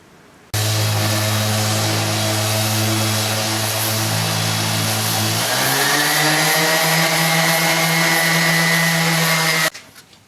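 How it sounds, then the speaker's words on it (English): A DeWalt 5-inch orbital sander working over wooden table parts hums loudly and continuously for about nine seconds, its motor pitch shifting upward midway, before switching off. "I'm using a dewalt 5-inch orbital sander, and the sandpaper just attaches like Velcro"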